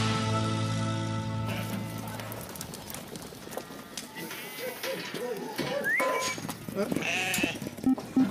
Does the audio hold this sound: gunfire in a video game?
no